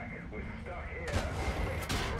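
A World of Tanks battle rumbles low, then a sudden loud cannon blast hits about halfway through, followed by a second shot. A voice talks under the low drone.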